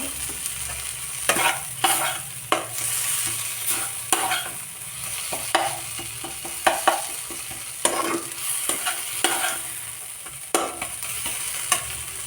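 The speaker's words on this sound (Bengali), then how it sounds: "তো দেখো এবার ভালোভাবে ওইগুলোকে কষিয়ে নিতে হবে কিছুক্ষণ" Sidol dried fish chutney sautéing in a pan, a steady sizzle broken by repeated scraping stirs of a spatula, close and fairly loud, with no voices.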